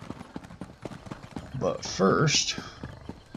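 Horse hooves clip-clop in a video game, a steady trotting rhythm of light hoofbeats, joined midway by a brief whinny, with someone talking over it.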